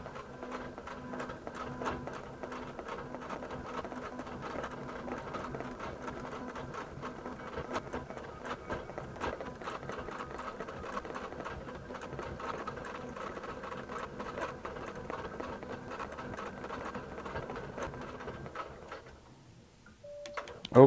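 A QBOT V3 quilting machine sews appliqué stitches with a steady, rapid mechanical chatter that stays fairly quiet and even throughout, then stops near the end with a sharp click.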